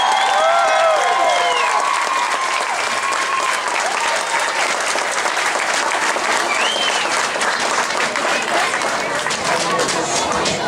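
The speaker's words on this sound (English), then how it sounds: "Let's give them a round of applause." A large audience applauds and cheers for a high school class of 2021 at their graduation ceremony, steady dense clapping with some whoops filling the space, loud and sustained throughout with a crowd murmur underneath.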